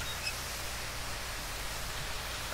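The blower on a Caledonian Railway Pug steam locomotive in Train Simulator 2018 gives off a steady, faint, even hiss that continues unchanged throughout, with no other sounds.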